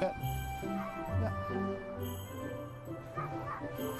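Sled dogs at a dogsledding kennel give several yips and short barks against a busy outdoor background, with people talking nearby.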